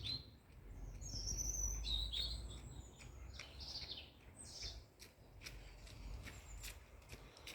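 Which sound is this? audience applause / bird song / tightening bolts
bird song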